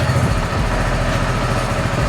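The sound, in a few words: motorcycle engine idling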